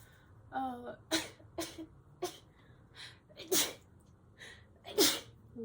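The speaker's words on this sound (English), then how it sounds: "I sneezed." Close, sharp sneezes with breathy gasps in between, a quick series of bursts in an otherwise quiet room.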